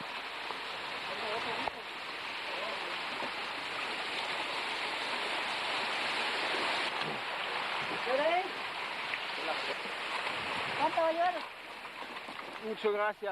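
Steady rushing of fresh water cascading down a waterfall off a cliff fills the scene, with a voice talking over it intermittently.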